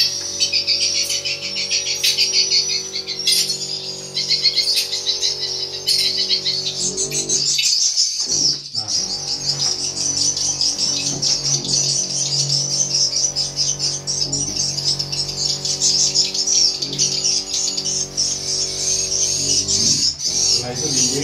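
Swiftlets call constantly inside a swiftlet house, a dense chorus of high chirps and clicks, with a steady electronic bird-call tone underneath and a brief dip in sound near the eighth second.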